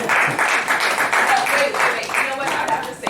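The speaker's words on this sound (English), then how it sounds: "Give her a round of applause" Conference audience applause at a real estate investors event rolls on steadily, a dense patter of many hands mixed with voices and cheers from the crowd.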